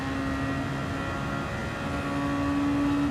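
Racing car engines in a sim racing game at a Red Bull Juniors round, a steady droning whine holding pitch with slight dips, continuous and fairly loud with no talk.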